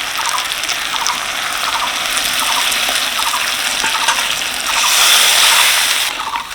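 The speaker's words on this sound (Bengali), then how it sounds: "এবার দিয়ে দিচ্ছি জল" Warm water pours into a pan of raw banana curry with a steady rushing gush that hisses against the hot pan, close and loud, growing stronger briefly near the end, with no talking.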